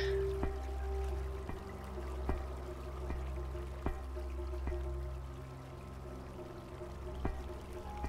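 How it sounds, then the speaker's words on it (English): Steady flowing water in the space-themed video game Caffeine, a continuous pouring wash under a low ambient drone, with a few faint clicks from movement over the top. "Those water sounds are sounding pretty neat."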